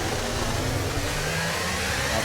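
F1 race car engine in the F1 23 video game, a steady loud broadband roar with low harmonic tones that shift slightly as it drives, continuous throughout with no talk.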